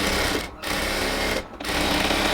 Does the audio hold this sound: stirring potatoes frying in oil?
no